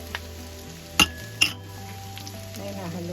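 Ground pork with vegetables and plantain is stirred in a pan, giving a soft bubbling fry under two sharp metallic clinks of a spoon against the pan.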